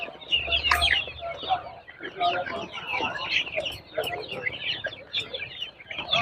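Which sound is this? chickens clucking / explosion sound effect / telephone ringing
chickens clucking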